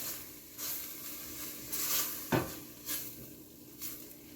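Spoon stirring tomato soup in a pot, with soft scraping swishes and a sharp clink against the pot partway through, close and fairly quiet, with no talking.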